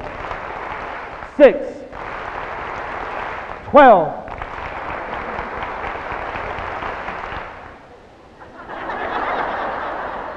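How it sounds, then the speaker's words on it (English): A large crowd at a school back-to-school convocation claps in a steady, dense wash that fills most of the stretch, loud and close, with a short gap near the end and two brief shouts or whoops breaking through. "I did hear a little clap up here now"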